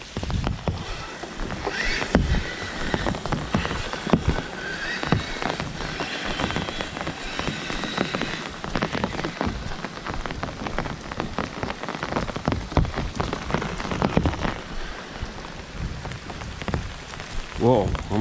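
Steady rain patters on the ground along a rocky hiking trail, a dense continuous hiss with scattered nearer drops throughout, and no voices.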